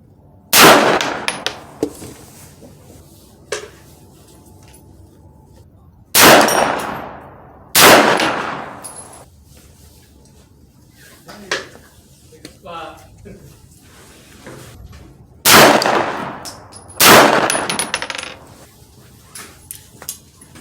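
A Foxtrot AR9 pistol fires during barrel break-in, five or six loud, sharp shots spaced a few seconds apart, each ringing with a metallic clang and echo, with speech between them.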